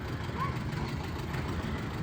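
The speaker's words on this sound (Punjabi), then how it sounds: "ਦੋਸਤੋ ਇੰਜਨ ਦੀ ਆਵਾਜ਼ ਆਉਂਦੀ ਆ ਕੰਪਰੋਮਾਈਜ਼ ਕਰ ਲਿਓ ਤੁਸੀਂ ਵੀ ਥੋੜਾ ਜਿਹਾ" An engine runs close by on a farm, a steady low rumble and throb that fills the whole moment without change.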